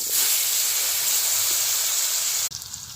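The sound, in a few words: potatoes frying in oil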